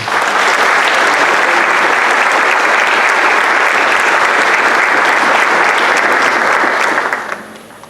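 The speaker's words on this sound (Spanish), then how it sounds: "pido un fuerte aplauso para todos ustedes" At the opening ceremony of a Colombian history congress at a university, a hall audience breaks into loud, dense applause that holds steady for about seven seconds, then quickly tapers off.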